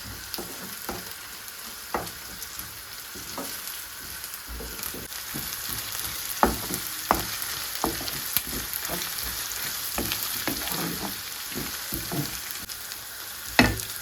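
Ginger-garlic paste sizzles in a pan of softening onions for a salmon curry: a steady close frying hiss, broken by sharp spatula scrapes and taps as it is stirred.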